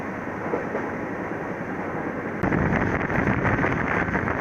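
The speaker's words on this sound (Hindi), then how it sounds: "मैक्सिमम 130 की स्पीड से चल रही है इस समय डबल डेकर" Steady roar from the ANVT–LJN double-decker express train running at about 130 km/h, heard from on board with wind buffeting. It grows abruptly louder partway through, with no talk.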